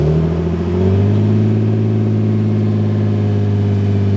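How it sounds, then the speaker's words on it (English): A manual Lexus IS300 engine on a cold start settles into a loud, steady idle after a brief rise in revs, heard close up and alone. "I'll give you guys a cold start"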